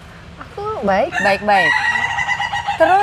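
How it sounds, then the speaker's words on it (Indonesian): A rooster crows loudly and close by in a few wavering, rising-and-falling calls, overlapping with people talking in Indonesian. "Tuh ada ayam berkokok terus."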